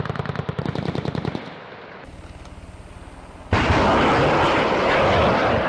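Rapid bursts of helicopter cannon fire from an Apache attack helicopter during a live fire exercise, a loud rattling volley that cuts off, followed by a lower rumble and then a sustained roaring wash of rotor and blast noise.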